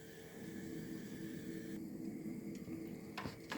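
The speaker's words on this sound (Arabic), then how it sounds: "ادي العسل بيغلي" Honey syrup boils in a pot with a quiet, steady bubbling hiss, broken near the end by a few light clinks.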